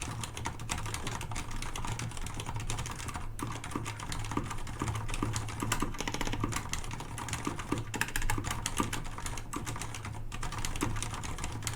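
Low-noise mechanical office keyboard with red switches being typed on, a brisk, continuous patter of soft key clicks close by, with no talking.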